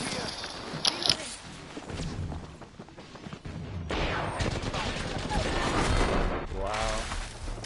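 Gunfire from the video game Apex Legends, heard as a few sharp shots followed by heavier, continuous firing and effects, loud and busy, with a voice talking over parts of it.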